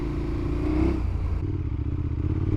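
A powerful motorcycle engine drones steadily while riding on a sunny day, a continuous low throbbing hum with a slight rise in pitch partway through, mixed with some rushing noise.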